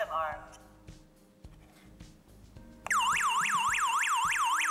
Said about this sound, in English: Now we have to arm the alarm to see if it will be activated when we open the door.